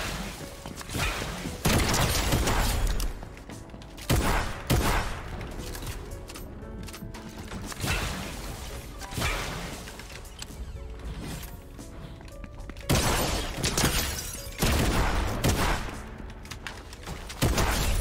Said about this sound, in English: I'm getting shot by three people. There's a whole nother squad that shot at me.